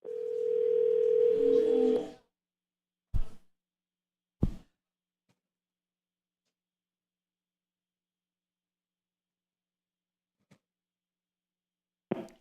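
A telephone dial tone holds steady for about two seconds before dialing to a different number, followed by a few sharp clicks and long silence on the line.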